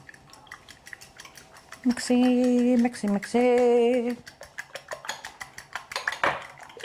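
A fork beats eggs and milk in a bowl for French toast, giving a run of quick, close metallic clinks and taps against the bowl, with a brief louder ringing tone partway through.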